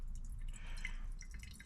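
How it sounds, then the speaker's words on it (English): Water trickling and dripping through a funnel into a steam cleaner's tank in a garage, a soft continuous pour with a few brighter splashy drips, fairly close and alone. "we're gonna add water to the steamer"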